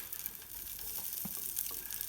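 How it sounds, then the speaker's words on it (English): Chorizo sizzling in a hot frying pan, a faint steady hiss with small pops and crackles throughout. "I got a pan nice and hot here. I can hear the sizzle."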